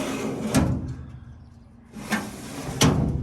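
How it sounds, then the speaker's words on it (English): A pull-out shelf slides out of a vintage 1948 Youngstown kitchen cabinet, giving a few short, close scraping and knocking bursts separated by brief quiet stretches. "In this cabinet, you have a pull-out shelf"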